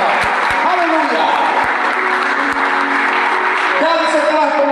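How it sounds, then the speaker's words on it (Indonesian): A wedding congregation applauds during a church blessing, lively clapping mixed with voices and a speaker talking over it, with a few sharp knocks. "Berikan tepuk tangan yang meriah buat Tuhan"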